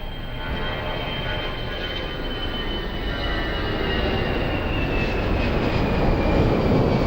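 An airplane landing at Lisbon Airport produces a steady, broad jet engine roar that swells slightly louder over several seconds, heard from some distance with no talk.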